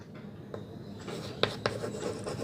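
Marker or chalk strokes on a board during a maths lesson on differentiation, a few short scratchy squeaks over faint room noise.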